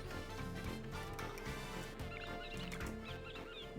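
A bird squawks in a desert town in Super Mario Odyssey, its short chirpy calls rising over a steady bed of game music and ambience.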